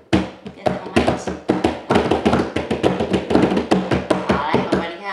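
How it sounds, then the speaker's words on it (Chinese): Hands tap in quick, uneven bursts of close, sharp knocks, many strikes across the stretch, with a voice talking faintly at the start. "来，我们先用手敲一敲，用手敲一敲，"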